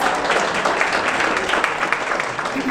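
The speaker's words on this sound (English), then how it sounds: "Everybody give her a round of applause." Crowd applause fills a school district Black History Month celebration as a District 5 board member is welcomed, a dense steady wash of many hands clapping, loud and sustained throughout.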